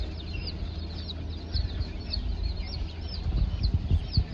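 Small bantam chickens cluck in a series of short, repeated calls over a steady low background hum, with louder bursts of cluck-like activity toward the end.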